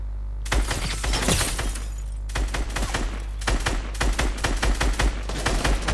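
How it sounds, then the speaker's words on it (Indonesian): Rapid bursts of gunfire crack and rattle in Fortnite on PS4, with shattering impacts, in dense volleys that pause briefly and then resume loudly. "Takut juga ya tembak-tembakan ini ya."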